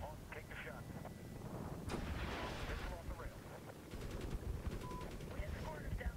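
A Hellfire missile blast in the Medal of Honor game Gunfighters, with heavy booming detonations and crackling gunfire bursts through the clip over a dense rumbling battle bed, while a voice talks underneath.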